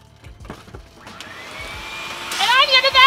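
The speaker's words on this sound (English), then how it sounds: "And I'm gonna vacuum!" A vacuum cleaner starts up in a garage during a Miata part install. Its motor whine rises steadily and grows loud over about two seconds.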